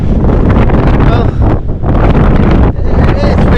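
Heavy wind batters the microphone in loud, gusty rushes with a few brief lulls by a rough sea during an ultra marathon on Gozo, and a voice can be faintly heard beneath the roar.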